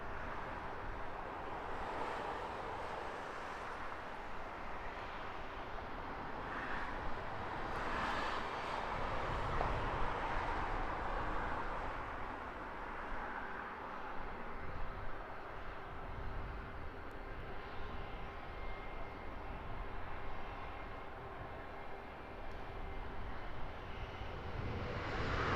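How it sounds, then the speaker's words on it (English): A Virgin Atlantic Boeing 787-9 landing at Heathrow Airport at sunset, a steady broad jet roar that swells slightly mid-pass and holds throughout, with wind buffeting the microphone. "Number two to land behind this A350 787-9, courtesy of Virgin Atlantic"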